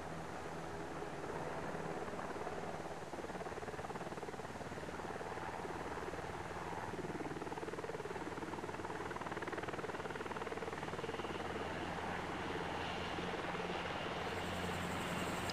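Steady helicopter rotor drone in an Arma rotary-wing training flight, a continuous thrumming engine and blade noise held at an even level throughout, with a faint shift in tone near the end.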